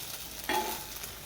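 An egg paratha, with a little chopped onion, frying in a pan, giving a soft background sizzle with one brief brighter scrape or stir partway through, fairly quiet and with no voices.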